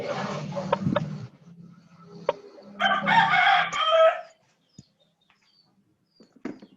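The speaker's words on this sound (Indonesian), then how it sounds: "Tolong ayamnya disuruh diam dulu ya." A rooster crows loudly in the background of an online university class meeting, one long drawn-out crow rising and falling after some softer murmuring, then near-silence with a few faint clicks.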